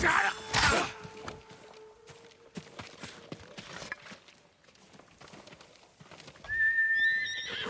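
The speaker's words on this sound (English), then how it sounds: "Horse!" A horse in the video game Ghost of Tsushima gives a loud whinny at the start and another near the end, with clip-clopping hoofbeats in between.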